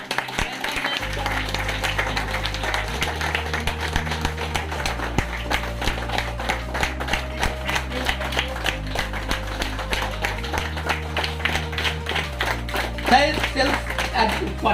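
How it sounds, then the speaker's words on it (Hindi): An audience applauds at an award ceremony for a home-building company, clapping steadily throughout under a steady musical backing, with someone speaking Hindi over it at times. "तो भाई एक बार जोरदार ताली बजाइए आप लोग।"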